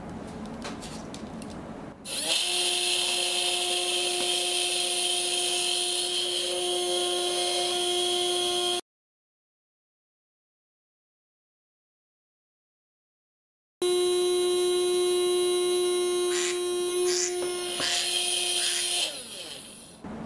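A Mini 4WD Hyper-Dash 2 motor spinning in reverse during break-in gives a steady high-pitched electric whine that stops abruptly for about five seconds, then starts again and runs steadily until it winds down near the end.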